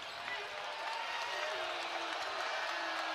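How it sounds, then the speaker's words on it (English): Basketball arena crowd at a Nebraska vs BYU college men's game swells into a loud, sustained roar late in a close game, a dense continuous wash of cheering. "Crowd here in PBA getting loud, trying to get a stop here for the Huskers"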